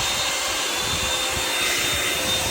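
A Revlon hairdryer brush on its highest heat setting, blowing with a steady, loud, unbroken whoosh and high whine, no voices.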